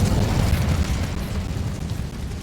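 The Incendio fire spell cast in Hogwarts Legacy inside a mine, a heavy, rumbling whoosh of flame with a deep low-end burst that is loudest at the start and then slowly eases off.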